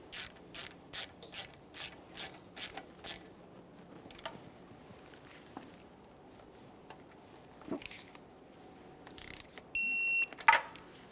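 A hand ratchet clicks in quick bursts while snugging the ABS wheel speed sensor mounting bolt on a 2010-2013 Kia Forte Koup, several rapid sets of clicks up close, then quieter handling noises, a few taps and a brief electronic beep.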